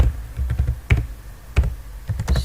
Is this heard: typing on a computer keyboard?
yes